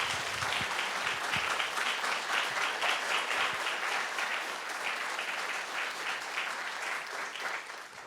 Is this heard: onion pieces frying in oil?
no